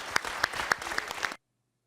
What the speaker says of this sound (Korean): 의원 여러분 먼저 박수 한번 좀 보내주시죠.